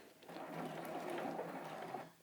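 Sewing machine stitching layered quilt fabric pieces for a basket weave quilt block, a steady close whirring run of about two seconds with no talking.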